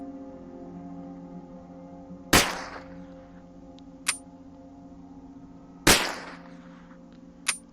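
Gunshots in The Dead Linger video game: two loud, sharp shots several seconds apart, each followed by a fainter crack, over a steady low background hum.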